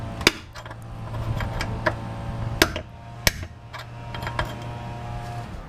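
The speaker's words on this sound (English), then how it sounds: "I don't have an air hammer, but I do have a good old-fashioned punch and a hammer." Sharp metallic taps ring out at irregular intervals, several hammer blows striking a metal punch while fitting shocks on a Jeep XJ, over a steady low mechanical hum.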